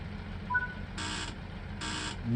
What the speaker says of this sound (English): You hear the beep, beep, beep, beep, beep.